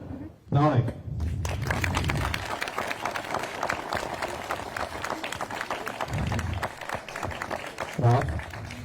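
An audience bursts into clapping after a name is called out, with several seconds of lively, steady applause framed by a speaking voice just before it starts and again as it fades.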